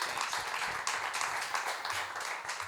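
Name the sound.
audience applause for panel speaker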